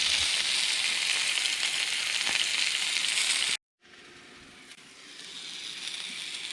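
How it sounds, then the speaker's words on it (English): Polish sausages frying in a skillet give off a steady, loud sizzle that cuts out briefly, then resumes a little quieter and slowly builds again. "what I'm going to be doing is just cooking them in a skillet"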